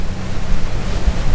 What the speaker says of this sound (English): The noisiest thing we've got up here is the sound of the water peeling off the hull.